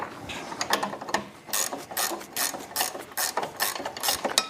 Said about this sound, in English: Grab the 3/4 wrench over there. Right there on the floor of that ratchet wrench.